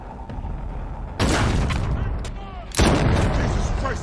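Two loud rifle gunshots in a film boom out about one and a half seconds apart. Each has a sharp onset and a lingering echoing decay, over a background of rumble.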